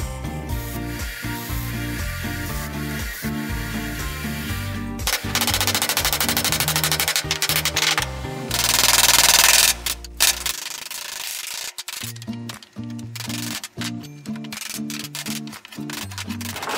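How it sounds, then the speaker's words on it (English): A 1-inch belt sander smooths the edges of small wooden drawer parts in a workshop, producing loud, close rasping bursts that start and stop, the grinding rising in intensity as each piece is pressed against the belt. "Then I took it over to my 1-inch belt sander and smoothed down the edges a little bit"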